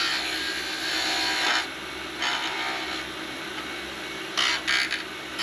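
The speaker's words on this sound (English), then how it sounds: "I'm just brushing with almost a shear scrape." A lathe tool held in a shear scrape brushes across a spinning wooden whistle, giving a close, steady dry rasping hiss that swells in several short bursts, with no one talking.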